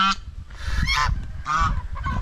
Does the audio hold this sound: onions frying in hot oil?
no